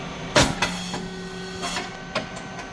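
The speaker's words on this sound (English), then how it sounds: "rice cake machine SYP9502" A SYP9502 rice cake machine with titanium-coated moulds pressing 95 mm round cakes gives a sharp pop-like burst followed by fainter thumps and a steady mechanical hum.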